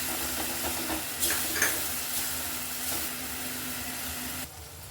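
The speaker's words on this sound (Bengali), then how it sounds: "সেই জলটা দিয়ে মশলাটাকে কষিয়ে নিচ্ছি ভালো করে" Spice paste for dal paneer is stirred in a pan with a splash of water, giving a steady sizzling hiss with brief scraping strokes around the middle. The frying drops away abruptly near the end.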